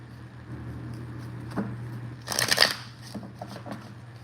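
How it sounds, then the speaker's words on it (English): A deck of tarot cards being shuffled during a love reading, heard as a short riffling burst partway through, with softer handling sounds before and after in a quiet room. "Pull some cards here."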